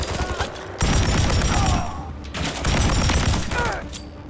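Dense gunfire in Call of Duty: Modern Warfare III on a frozen tundra battlefield, sustained fusillades in two long bursts separated by a short lull, loud and close, with faint voices in the mix.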